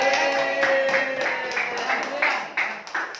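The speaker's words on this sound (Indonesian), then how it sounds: "Tepuk tangan buat kelompok 3." Classroom applause for a student group, a brief burst of many hands clapping together, dense and lively at first, then thinning into a few scattered claps, heard alongside a voice.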